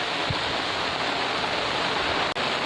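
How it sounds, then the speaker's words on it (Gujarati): Big drops of heavy rain pour down on a village farm field, giving a constant broadband hiss that holds steady throughout, with one brief dip and no speech. "વરસાદ જો આપણે અત્યારે અહીંયા મોટા છાંટે હારામાં હારો પડે છે."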